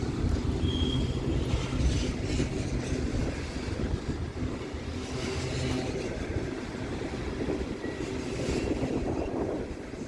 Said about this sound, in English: I do see a train behind him too down there.